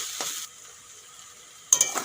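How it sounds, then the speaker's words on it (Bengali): Papaya stir-fried in a pan: short bursts of scraping and sizzling at the start and end frame a quieter stretch of low, steady frying hiss. "ঘন ঘন নাড়া দিয়ে এইভাবে ভেজে নিতে হবে"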